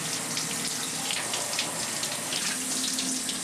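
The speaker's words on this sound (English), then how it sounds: "I've been watching you take a shower for the past 40 minutes." Water streams steadily from a shower in a dog-themed comedy sketch, a constant hissing spray with no pauses, close and fairly loud throughout.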